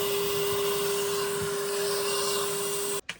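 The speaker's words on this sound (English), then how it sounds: "working on sucking up a bunch of this goo with the shop vac" A shop vac runs loud and steady, sucking goo out of a boat's water tank during a Westsail 32 refit, then cuts off abruptly near the end, leaving a few brief clunks.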